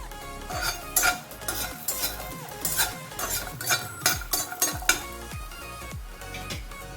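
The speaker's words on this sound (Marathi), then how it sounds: "आता लसूण भाजून घेते।" Garlic dry-roasts in a pan while a spatula stirs it, making repeated scraping strokes and light clinks in uneven bursts over a faint sizzle, close by and without talk.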